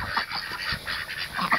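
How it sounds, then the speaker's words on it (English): Geese and ducks honking and calling close by outdoors in cold weather, several overlapping calls in a steady noisy stream with no talking. "What's up, ducks and gooses?"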